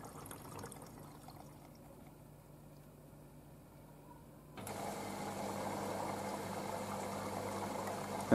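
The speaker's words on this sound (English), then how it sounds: "We're starting filling from the main wash now." A Bosch VarioPerfect WAK28260GB washing machine on a 90-degree cottons cycle with prewash starts filling for the main wash: a quiet hum, then a sudden louder rush of inflowing water that continues steadily to the end.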